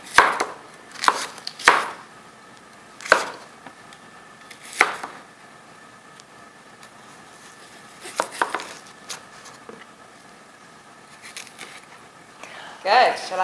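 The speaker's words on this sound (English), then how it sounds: "Grab a knife, and let's start chopping." A knife chops organic apples into small squares on a board in a kitchen, with scattered sharp, irregular cuts separated by pauses, fairly quiet and close.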